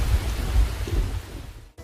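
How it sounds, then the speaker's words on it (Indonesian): A thunderstorm with steady rain, heard as a dense low rumble and hiss of rainfall throughout, ending in a brief cut. "Seringkali hujan disertai petir atau bahkan butiran es."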